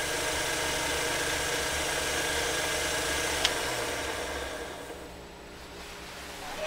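Singer Featherweight 221 sewing machine motor running with heavy vibration at its lowest speed setting, a steady droning hum with rattling buzz and one brief click, easing off near the end, no speech.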